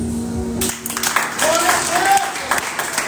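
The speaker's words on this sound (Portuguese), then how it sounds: "Dê um salve de palmas mais forte." Church congregation clapping during a lively worship service, a steady broadband wash of applause that swells after a quieter start and carries on throughout, with voices mixed in.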